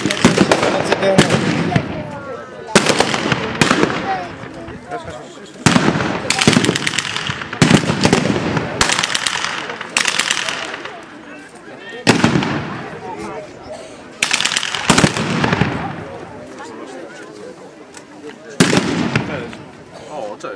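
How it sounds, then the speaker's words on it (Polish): Machine gun and rifle fire crackle in loud repeated bursts at a reenactment of a 1915 battle at Bolimów, with rapid volleys separated by short pauses and voices under the shooting. "Była przydana broń maszynowa, strzelecka."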